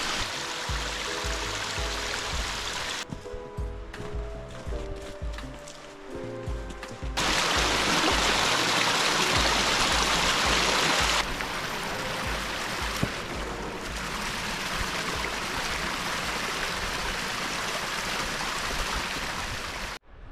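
Rushing, surging stream water from Slippery Rock Creek in a wooded gorge, a broad steady wash that swells louder partway through and holds near and continuous, with a few faint tonal sounds early on.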